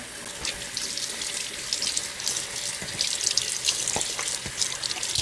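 An evaporative air cooler's filter is rinsed under a running tap, giving a steady close splashing of water with irregular drips and spatters throughout.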